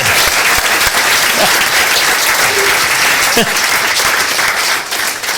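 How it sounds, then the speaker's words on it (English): Loud, steady applause from a city council meeting audience fills the room, continuous dense clapping with a few voices and whoops mixed in, easing slightly near the end. "give a round of applause for that"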